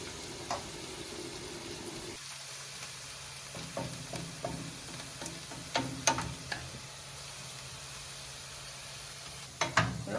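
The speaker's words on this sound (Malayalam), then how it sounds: "നന്നായിട്ട് ബ്രൗൺ കളറാകുന്ന വരെ ഫ്രൈ ചെയ്ത് വറുത്ത് കോരിയെടുക്കണം" Onions deep frying in hot oil until brown for Kerala-style chicken chukka, a steady close sizzle with scattered pops and occasional clinks of a slotted spoon, no one speaking.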